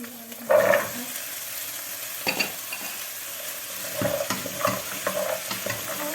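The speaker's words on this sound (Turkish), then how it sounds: "Nohutlarımı ekliyorum." Chickpeas fry with tomato paste in a pan for a chickpea and meat dish. Repeated scraping stirs and soft clatters break up a low, steady sizzle.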